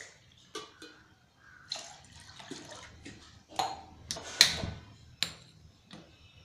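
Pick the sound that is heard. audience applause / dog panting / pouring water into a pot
pouring water into a pot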